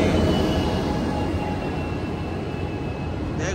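An Amtrak passenger train with an SC44 Charger locomotive rolls past at close range, a steady loud rumble and wheel roar that holds throughout.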